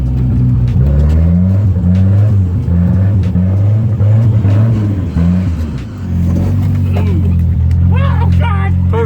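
Big turbo Volvo engine revving hard while drifting in snow, a loud, close drone rising and falling through the pulls, with voices talking over it.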